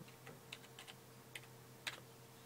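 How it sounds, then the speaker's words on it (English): Keys on a keyboard tapped out while typing a DOSBox mount command on a PS3 running DOSBox, a handful of quiet, separate clicks at an irregular pace over a faint steady hum. "to boot Windows, we're going to type in mount"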